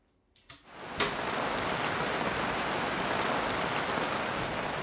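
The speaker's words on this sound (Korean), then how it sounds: "갑자기 비가 오네요." Steady rain falls during Bangkok's rainy season in Thailand, a dense even hiss that starts abruptly after a soft door-like knock and carries on loud and unbroken with no talk.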